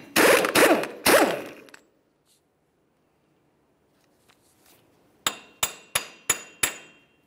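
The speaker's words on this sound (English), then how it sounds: "use a hammer and punch in the center here, and just break the axle free from the bearing" A hammer drives a punch against the axle center on a 2002-2009 Chevrolet Trailblazer front hub, giving three ringing metallic blows, a pause, then six sharp evenly spaced strikes.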